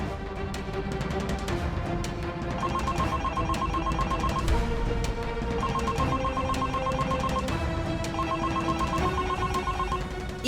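A telephone rings on and on without being answered, repeated electronic ring bursts in a steady rhythm, loud and close, with no voices.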